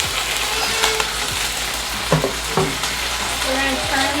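Steady, close sizzling of dumplings frying in a hot pan, with a few soft clicks and scrapes of stirring.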